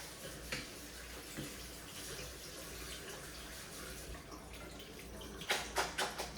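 Cold tap water runs at low volume over cooked bones being handled at a sink, a steady trickle with a few sharper splashes near the end.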